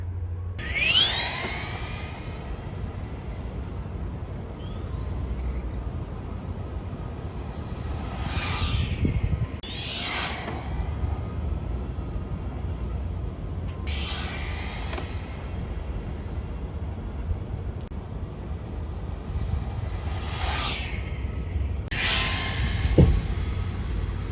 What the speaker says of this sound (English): Now we're gonna get this Titan 550 motor in there and test it on the same batteries.